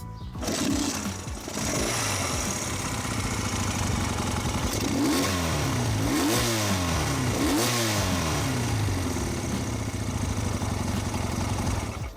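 A Husqvarna Vitpilen 401 single-cylinder motorcycle engine revs repeatedly, loud and close, climbing and dropping in several rising sweeps over a steady thumping idle.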